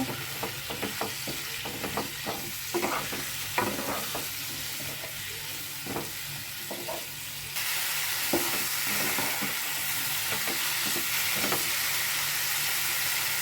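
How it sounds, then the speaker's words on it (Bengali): A paste of onion, cumin, tomato and ginger fries in a pan with steady sizzling and repeated spoon stirs and scrapes. Partway through, a constant hiss rises and the sizzle grows louder and fuller. No voices. "দিয়ে মশলাটা কষিয়ে নেব।"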